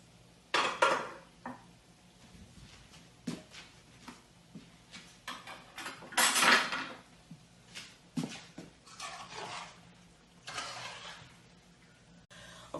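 Cooked pasta is tipped out of a metal pot, giving intermittent clanks of pot against strainer and sink with bursts of pouring water and rattling, fairly close and moderately quiet, no talking.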